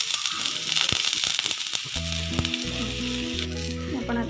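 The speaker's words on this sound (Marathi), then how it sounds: "छान खरपूस असं तेल टाकून भाजून घ्यायचं आहे आपल्याला." Fasting flatbread (dhapate) roasts in oil on a hot griddle, crackling and sizzling steadily throughout, with a few scraping stirs and a faint tonal hum in the background.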